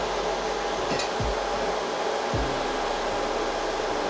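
An llano V12 laptop cooler with its fans spinning at high speed gives a loud, steady broadband whoosh of rushing air, with a couple of faint low knocks partway through.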